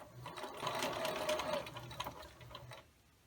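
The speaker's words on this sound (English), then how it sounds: "turn it around, and we're going to stitch now on the other side." A sewing machine stitches a quilt block for a sailboat pattern, a quiet rapid mechanical whirr with a brief surge and stop, fairly close and alone.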